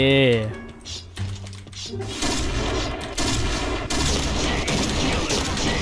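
Gunfire in the online shooter Point Blank rattles in rapid bursts after a short musical tone, growing into continuous loud firing while someone talks over it.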